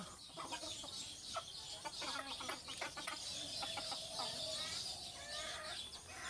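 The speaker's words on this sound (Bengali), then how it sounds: "দেখুন, আমার এই মুরগিটা কুচ্ছা হয়েছে" A broody hen sitting on eggs clucks in short, soft repeated bursts, close by, with low murmuring calls and faint background chatter of other birds.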